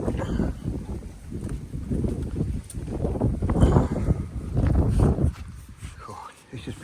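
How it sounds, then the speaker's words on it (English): Gusty wind buffets the microphone aboard a small boat under restoration while someone prepares to mount an outboard motor, roaring in uneven surges with a person talking over it. "It is a bit windy."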